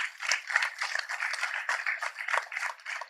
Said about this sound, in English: please one more round of applause for our graduates